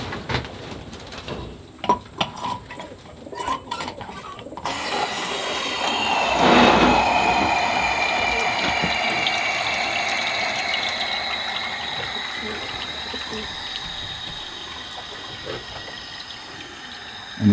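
Steady rushing of water filling an automatic pigeon waterer, a hissing flow that swells and holds, with a few clicks at the start.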